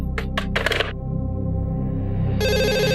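A telephone rings in short electronic bursts, then a steady tone takes over, with no talking.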